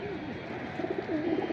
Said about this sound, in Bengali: সিলভার বাগা কবুতর।